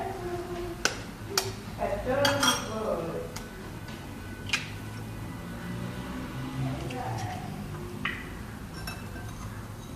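Mustard oil, an egg and two spoonfuls of yogurt mixed together in a bowl, with light clinks and taps of a spoon against the bowl scattered through the stretch, a soft scraping between them and a quiet voice in the background.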